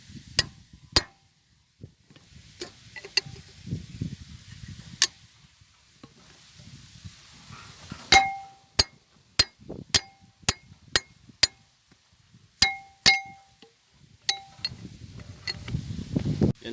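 Sharp metallic clicks and taps ring out close by while a large nut is worked off an R180 single-cylinder diesel engine, coming as scattered single knocks with a dense burst of rapid clinks near the middle over quiet background rustling.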